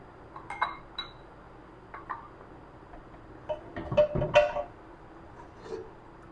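Mutton paya curry (goat trotters) being served into a dish, with scattered light clinks and taps of utensils against crockery, a busier cluster of clinks near the end, close by and with no talking.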